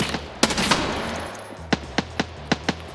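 Gunfire in Escape from Tarkov: a few loud, close shots ring out with a lingering tail, followed by a steady string of evenly spaced single shots.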